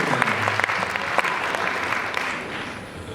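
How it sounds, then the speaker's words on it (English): An audience at a college convocation gives a round of applause for the governor, dense steady clapping that fades slightly toward the end, with no voices over it. "let's give the governor a round of applause"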